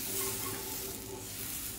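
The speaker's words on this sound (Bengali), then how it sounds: "এবার পাটিসাপটা ভাজছি আমি" Patishapta rice crepes fry in a nonstick pan, giving a close, steady, soft sizzling hiss with faint stirring and no voices.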